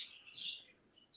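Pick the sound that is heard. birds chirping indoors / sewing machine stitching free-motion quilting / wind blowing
birds chirping indoors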